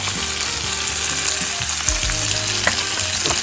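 Peppers and garlic fry in a hot pan, with a loud, steady sizzle running throughout and occasional stirring scrapes and bumps close by.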